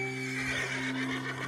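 Horse whinnying in the video game Red Dead Redemption 2, a single loud, shrill neigh lasting just over a second and heard up close.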